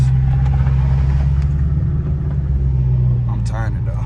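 A straight-piped Dodge Charger R/T with a 5.7 engine cruising on city streets, its deep, steady exhaust rumble droning loud and close from inside the car, with a brief higher-pitched tonal whine near the end.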